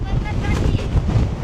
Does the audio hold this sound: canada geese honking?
no